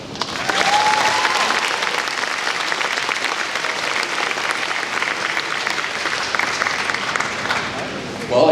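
Audience applause fills a luncheon hall, a dense, steady wash of many hands clapping at close range, sustained for several seconds at even loudness before stopping abruptly near the end.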